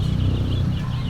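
Laying hens cluck in a low, steady run of short throaty notes with a faint higher call above, close and continuous with no talking.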